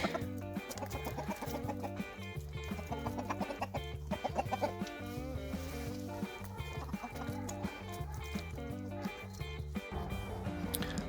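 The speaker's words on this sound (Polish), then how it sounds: "dziubią kurczaki" Chickens cluck softly as they peck at sauerkraut, their murmurs mixed with a steady, rhythmic background of repeating tones.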